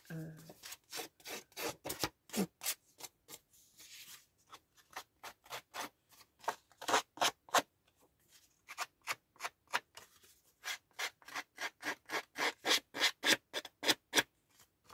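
Child's scissors cutting through paper while making a simple mini album craft: a close series of quick, crisp snips in an uneven rhythm, with a short pause midway before the cutting resumes.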